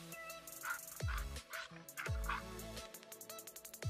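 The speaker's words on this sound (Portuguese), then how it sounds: "Olha o cachorro aqui, confortar o cachorro." A dog in the video game Life After yelps, barks and whimpers in short close bursts, a few sharp barks followed by quick high whines over a faint steady game tone.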